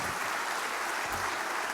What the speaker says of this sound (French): Vous allez l'applaudir.